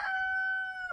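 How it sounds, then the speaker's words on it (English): A rooster on a multigenerational family farm with pens of chickens gives one clear, sustained crow lasting about a second, close and loud against a quiet background. "These are our chickens."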